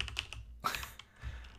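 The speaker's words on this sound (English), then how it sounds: "I'm just typing crap." Keys clacking on a computer keyboard while someone works through web UI code, a short burst of a few quick taps, a pause, then a louder cluster of strikes, close and clear with no talking.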